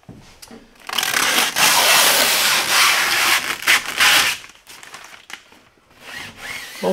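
Rough rhythmic rasping of hand sanding on wood during boat building, close and fairly loud, in several bursts with short pauses between strokes.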